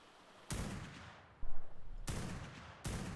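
Heavy sniper rifle shots in the game ARK Myth: three loud booming reports spaced apart, each with a decaying tail, the middle one followed by a rumbling echo.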